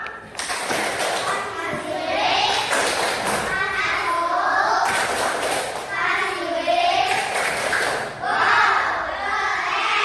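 A group of schoolchildren in a classroom clap in a fast rhythmic pattern, interspersed with loud chanting and shouting voices throughout.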